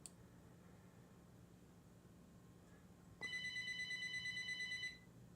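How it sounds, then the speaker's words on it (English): A telephone suddenly rings after a stretch of quiet room noise, a loud rapid warbling ring lasting under two seconds before cutting off. "That phone never rings."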